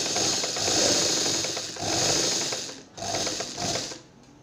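A sewing machine stitches a blouse seam in bursts, its fast mechanical whirring and clatter running for about a second at a time with short pauses between, close up and with no talking.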